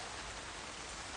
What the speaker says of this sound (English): I like hearing the rain pitter-pattering on top.